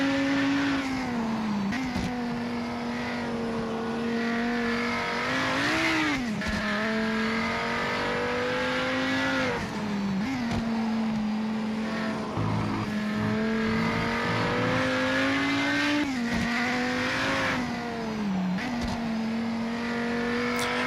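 Race cars in Project Motor Racing on PS5, engine notes held loud and steady with gear shifts and revs rising and falling, plus brief tire squeal, continuous without talk.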